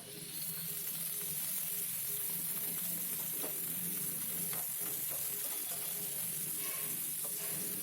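Brinjal pieces frying in oil with curry leaves give a continuous close sizzle with occasional faint scrapes and clicks of stirring, and no voices.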